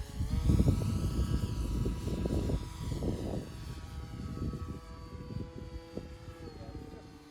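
A Pterosaur 1400 RC park flyer model airplane flies overhead, its electric motor and propeller droning loudly at first, then fading steadily as it moves away.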